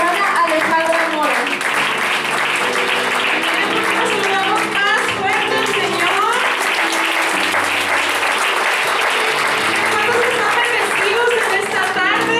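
A church congregation gives steady, loud applause for speaker Alejandra Mora, sustained dense clapping throughout with some voices mixed in.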